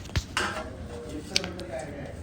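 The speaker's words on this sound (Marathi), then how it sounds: "असंच हे पातेलं मी आता फ्रीजला ठेवून देणार आहे" A metal cooking pot clatters briefly with a couple of sharp knocks, followed by soft handling noises in a quiet kitchen as it is put into the fridge.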